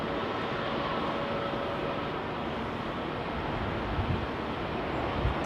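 A jet aircraft roars on final approach at London Heathrow, a steady broadband rumble that stays loud and even throughout with no nearby voices.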